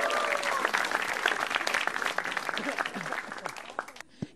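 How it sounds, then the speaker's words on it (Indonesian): Audience applause at a televised stand-up comedy battle on Metro TV, a dense sustained roar of clapping with scattered cheers that fades near the end, a voice briefly heard over it. "Hore, tepuk tangan dong."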